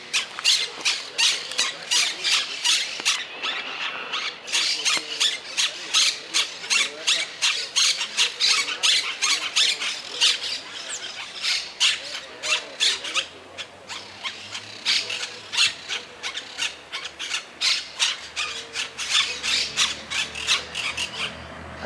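Loud, dense chorus of parrots squawking nonstop around their nest in a town plaza, harsh repeated calls close by and overlapping throughout.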